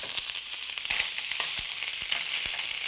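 Juices sizzle in a hot sauté pan, a steady bright hiss crackling close by with scattered pops and spits, with no talking over it.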